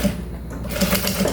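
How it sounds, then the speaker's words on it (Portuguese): A sewing machine runs a short backstitch in a close, steady mechanical whir with a rapid rhythmic needle beat, heard alone. "Nunca esquecer de fazer a costura de retrocesso"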